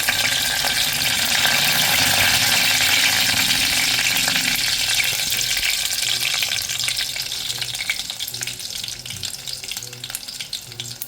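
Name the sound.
curry leaves added to hot oil with garlic, sizzling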